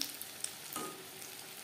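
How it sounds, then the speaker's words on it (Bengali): Egg chops frying in oil make a faint, continuous sizzle with a few light crackles and a soft clink, brief and quiet, with no voices. "ঠিকঠাক চপ ভাজা হয়ে গেছে"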